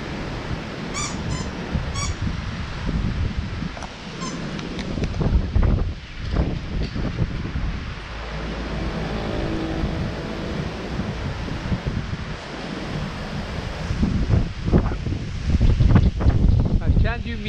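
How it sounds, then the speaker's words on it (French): Gusty wind of an approaching storm rushes and buffets the microphone, swelling and easing in waves, with occasional creaks and brief voice sounds in the background. "Ah, l'orage s'approche."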